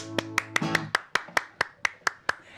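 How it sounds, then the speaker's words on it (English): Scattered clapping from a small comedy club audience, about a dozen sharp, fairly evenly spaced claps from one or a few pairs of hands, with a faint hum and brief musical tone underneath. "more applause than I normally get"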